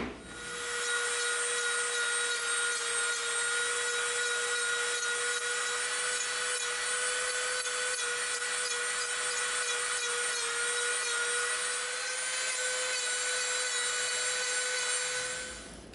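A Dremel rotary tool whines steadily as it smooths and rounds the rough edges of a wooden axe handle, a continuous high-pitched grinding hum held close and loud for the whole stretch with no talking.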